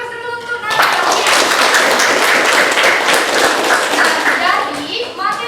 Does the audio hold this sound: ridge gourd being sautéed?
no